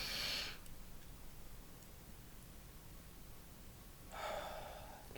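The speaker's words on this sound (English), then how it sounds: "Take a deep breath." Two slow, deep breaths, a long hissing inhale near the start and another a few seconds later, close and soft over a steady background hiss.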